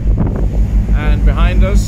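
Strong wind buffets the microphone in a low, steady rumble on a ship at sea near Rodondo Island, with faint open-water and engine sounds beneath it.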